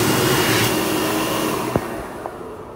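An electric hand dryer in a toilet blows a loud, steady rush of air that gradually fades, followed by a couple of brief knocks near the end.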